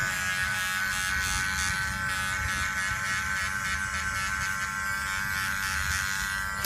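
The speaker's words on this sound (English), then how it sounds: "So this is the shortest that the clipper itself will go." Electric hair clipper with no guard buzzing continuously as it cuts hair at its shortest setting, a steady close-up high-pitched hum that holds an even level throughout.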